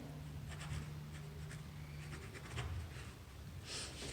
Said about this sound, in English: When you're finished printing, don't forget to sign your artwork.